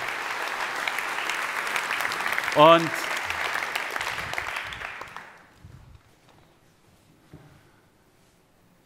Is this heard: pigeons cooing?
no